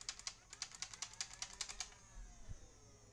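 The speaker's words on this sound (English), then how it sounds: "I feel like this is a very clicky and responsive rev trigger" A Nerf Stryfe blaster's rev trigger is pressed repeatedly, producing a quick series of about a dozen faint, crisp plastic clicks close by, with a short pause near the end.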